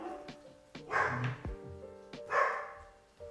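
Several dogs bark in short loud bursts, about two clusters of yaps and barks close by, with a few sharper single barks between them and no talking.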